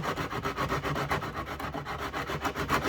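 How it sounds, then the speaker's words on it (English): Zebrawood is worked by hand with a 60-grit sanding block, giving close, steady rhythmic rasping strokes back and forth at an even pace throughout. "So again, I'll just take my sanding block."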